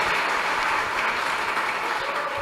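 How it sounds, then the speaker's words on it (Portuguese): Church congregation applauding, a dense, steady wash of clapping from many hands that fills the room evenly for the whole stretch, with no voices standing out. "Você pode aplaudir a Deus pela vida deles?"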